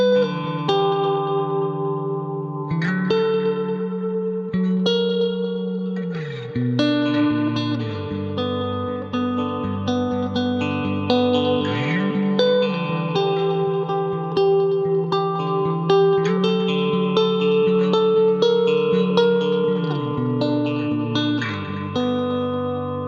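An instrumental tune played through a delay effect, with dense sustained notes and echoing repeats that shift between chords and melody lines, loud and continuous throughout with no talking.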